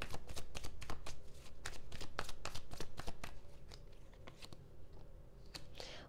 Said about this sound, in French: Il y a une carte qui est retournée, il y en a même plusieurs.